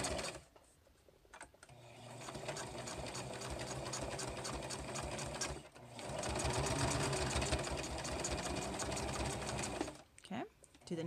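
A sewing machine stitching a placemat rat hammock, running in two long sustained bursts of rapid needle whirring separated by a brief pause, close and loud, with quiet talking mixed in.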